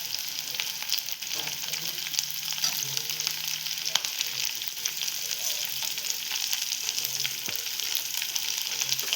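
Chopped onion and bell pepper fry in a hot pan for paneer chilli, giving a close, steady sizzle with small crackles and occasional stirring scrapes.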